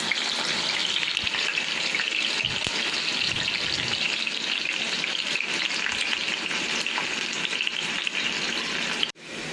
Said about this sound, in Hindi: ऑयल गर्म हो गया तो अब इसमें हमने प्याज डाल दी है।